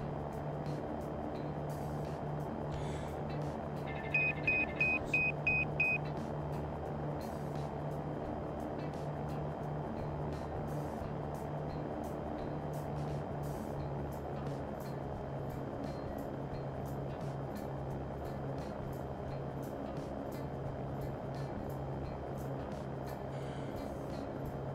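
The Cirrus SR20 piston-engine plane in the X-Plane 11 flight simulator drones steadily and unbroken throughout, with a short run of electronic beeps early on.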